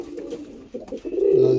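Pigeons, kept for sale, coo in low throaty burbling calls that swell and repeat close by, with overlapping birds growing louder toward the end.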